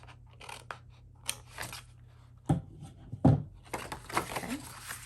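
Scissors snip through scored 6 x 6 cardstock paper along the score lines, a few crisp close cuts with brief pauses and light handling rustle between them.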